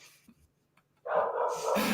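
Dogs barking indoors at a house, a short run of loud close barks that start abruptly after a quiet moment and continue rapidly to the end.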